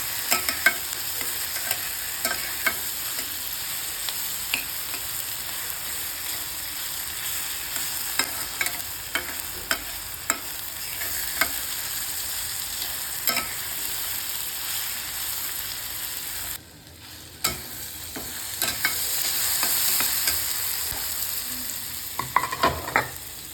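Okra and tomato stir-fried in a pan, a continuous close sizzle with frequent spatula scrapes and clicks throughout, no talking.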